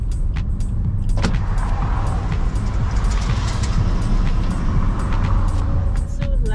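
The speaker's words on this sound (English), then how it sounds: "We are in car number 2." A car driving in town, heard from inside the cabin: steady low road and engine rumble throughout, with a few faint clicks and a brief whirring mechanical sound partway through, no one speaking.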